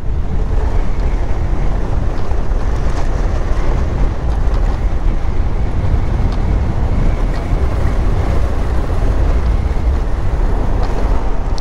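Motorbike ridden through a village, heard as loud, continuous wind rushing and buffeting over the microphone with a low engine rumble underneath, steady throughout with no talk.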